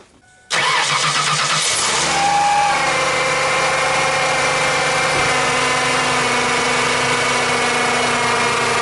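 A Ford Taurus engine cranks and fires up after an alternator replacement, then settles into a steady, close idle that runs on without any talk.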